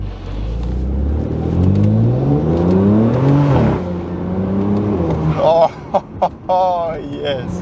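A turbocharged BMW Z4 sDrive35i (E89) revs up close by, its engine note climbing steadily before shifting, with someone speaking briefly near the end.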